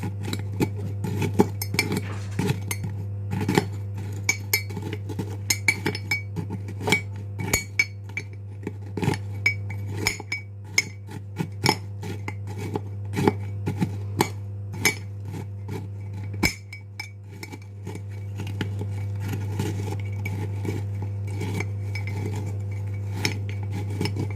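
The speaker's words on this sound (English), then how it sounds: "with a spoon I'm going to just crush them" A spoon clinks and taps repeatedly against a mug while crushing Oreo cookies, sharp irregular knocks over a steady low hum, close and fairly quiet.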